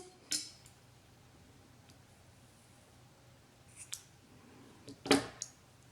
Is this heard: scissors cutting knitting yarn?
yes